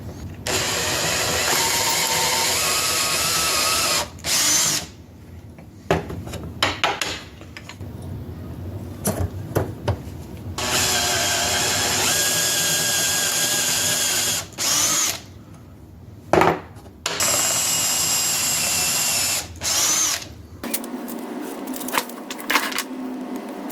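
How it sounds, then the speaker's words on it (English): A power drill fitted with a 13/64 inch bit bores a hole through a wooden Christmas ornament, whirring in several long bursts separated by short pauses, close and steady while it runs, with no talking. "I wanted to drill a hole that would allow me to push the string easily through. So I'm using a 13/64 inch drill bit."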